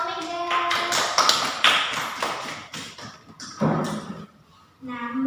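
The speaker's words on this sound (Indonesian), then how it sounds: "Beri aplaus buat Mbak Omega." Applause for a student in a classroom: a short burst of clapping from a small group, with voices talking over and between the claps.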